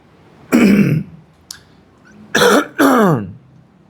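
Someone clears their throat close up in a few harsh, rasping bursts, separated by short pauses.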